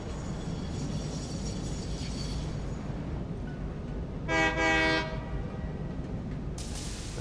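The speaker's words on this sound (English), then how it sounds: "there's the train" A train pulls into a station in the video game Satisfactory, a steady rumbling rail-car drone with two short horn blasts midway, fairly loud and without talk.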